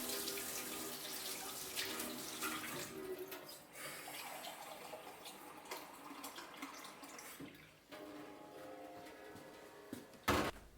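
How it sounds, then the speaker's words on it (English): Warm water pours in a steady stream into a bowl of bread dough ingredients for a vintage Kenwood Chef mixer, the flow shifting as it goes and ending with a brief knock. "I'll add most of the water now"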